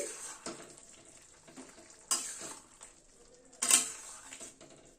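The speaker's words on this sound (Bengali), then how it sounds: "গরম মশলার গুঁড়োটা একটু মিশিয়ে দিচ্ছি।" Garam masala powder being stirred into a Bengali fish curry with winter vegetables in a pan, with spoon scrapes and clinks over a soft simmering sizzle, two sharper metallic knocks standing out.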